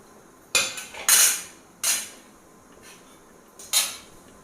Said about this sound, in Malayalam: ഈ മത്തങ്ങ ഇതേമാതിരി നുറുക്കിയെടുത്ത മത്തങ്ങ ഇതിലേക്ക് ഇട്ട് കൊടുക്കാം